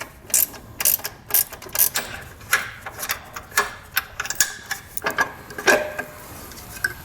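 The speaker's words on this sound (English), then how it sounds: "I'm going to take a 13mm ratcheting wrench and remove the nut here" A 13mm ratcheting wrench backs off a horn nut on the frame of a 2022 Chevrolet, with a series of quick, close ratcheting clicks in short bursts and brief pauses between them.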